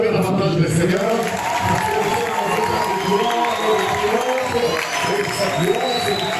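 A church congregation at a French-language service applauds and cheers for the Lord, with loud, continuous clapping and shouting from a full crowd, sustained without a break.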